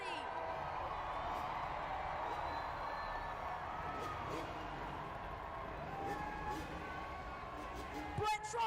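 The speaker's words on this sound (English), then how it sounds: "Send off our FMX riders tonight with a loud cheer." An arena crowd at a Monster Jam event in Brooklyn cheers and whoops for the FMX riders, a distant, continuous roar with scattered shouts and a louder burst near the end.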